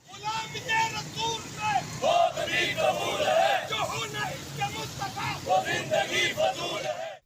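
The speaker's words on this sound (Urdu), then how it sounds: "سویڈن حکومت کے خلاف بھرپور نعرے بازی کی گئی" Crowd noise fills an outdoor street rally in Lahore as municipal staff chant slogans against the Swedish government. A dense, continuous mass of voices is heard with traffic rumbling underneath.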